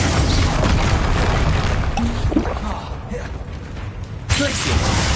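Confringo spell blast in Hogwarts Legacy: a dense, booming burst of fiery explosion noise swells loudly, dips, then flares up again near the end amid busy combat ambience.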